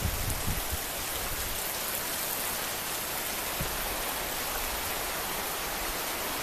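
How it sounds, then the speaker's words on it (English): Steady, heavy rain pours down continuously, a dense hiss of drops with a few louder splashes near the start and no voices. "So this rain will continue for some time."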